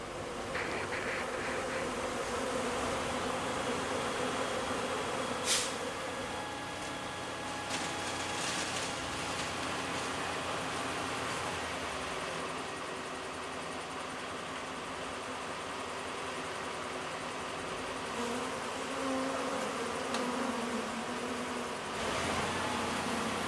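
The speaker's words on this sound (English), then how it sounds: "how the beekeepers can get the bewildered colony under control" A bewildered swarm of honeybees in an emergency produces a continuous dense buzzing drone that holds steady throughout, broken by a few faint clicks and knocks.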